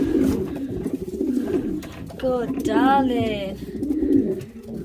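A racing pigeon back at the loft after a tough race gives a loud, close, throaty coo, with softer cooing and a person speaking gently around it.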